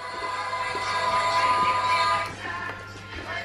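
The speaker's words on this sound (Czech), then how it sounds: "Vlak jede." A toy train runs at home with a steady whirring motor tone and faint rattling, close by and continuous, fading slightly toward the end.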